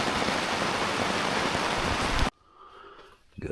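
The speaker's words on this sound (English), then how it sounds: "Pouring rain again." Heavy rain pours steadily onto a tent on a stormy mountaintop campsite, a loud dense wash that cuts off abruptly, leaving near silence before a faint sound returns at the end.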